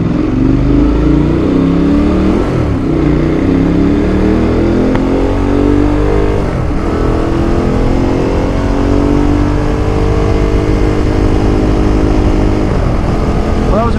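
A motorcycle pulls away and rides off along a road, its engine revving up through the gears with rising, sweeping harmonics, loud and close throughout.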